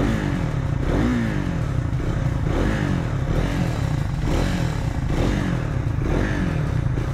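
A 2024 Triumph Scrambler 400 X motorcycle engine and exhaust run steadily and close up, a loud continuous throbbing note with gentle swells in pitch and no voices over it.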